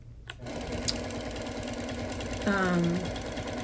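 A sewing machine runs steadily while lightly quilting a wool wall quilt, a continuous mechanical whir with a brief tonal squeal near the end, close and moderately loud.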